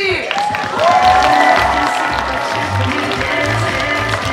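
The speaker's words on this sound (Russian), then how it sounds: "самые громкие аплодисменты" Crowd at a dolphinarium show in Bolshoy Utrish claps loudly and continuously, with some cheering, while a sustained whistling tone sounds over the dense applause.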